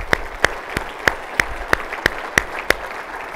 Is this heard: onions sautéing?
no